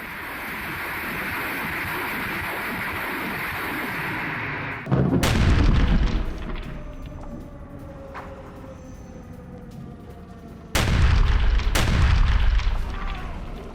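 Ukrainian Bastion-02 multiple rocket launcher strike on Russian positions, heard as two loud, sharp blasts several seconds apart, each followed by a rumbling decay over steady background noise.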